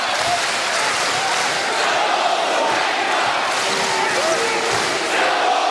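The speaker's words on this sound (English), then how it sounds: "Crowd giving it to Glenn Saville." Dense, loud basketball arena crowd at an NBL semi-final, a steady roar of voices jeering and shouting throughout with no break, broadband and close.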